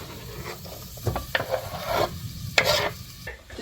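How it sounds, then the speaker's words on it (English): Onions sizzling as they hit organic olive oil in a pan, with a soft crackling hiss and a few stirring scrapes, close and fairly quiet. "So there's some oil here in the pan. It's organic olive oil. I'm going to put the onions in."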